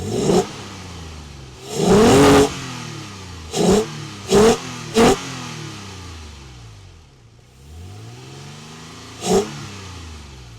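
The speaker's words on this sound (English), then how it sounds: "that's the sound of the intake." A Toyota Tacoma prerunner truck's engine revs in several short, sharp bursts with a throaty air-intake roar, one long rev followed by three quick blips and a later single blip, settling back to a steady idle between them, close and loud.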